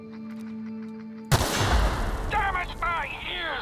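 Gunfire from a weapon in the video game The Outer Worlds breaks out suddenly after a quiet musical hum, a loud burst of shots and booms followed by a chaotic rumble and a voice speaking under it.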